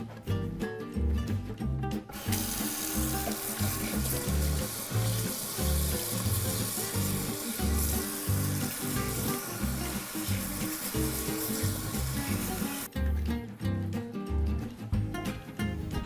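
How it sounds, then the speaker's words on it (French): A whole leek is washed under a running kitchen tap, a loud, constant rush of water spraying and splashing for about ten seconds, with rustling of the vegetable in the stream. "On va maintenant le laver."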